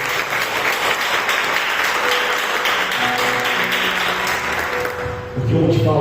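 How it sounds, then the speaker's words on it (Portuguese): A church congregation applauds during a worship service, steady sustained clapping filling the room, with a sung or spoken tone rising underneath toward the end. "Então dá uma salva de palmas para Jesus"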